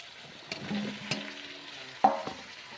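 Pieces of taro drop into chicken frying in hot oil, giving a soft sizzle with a few stirring clatters and one sharper splash near the end.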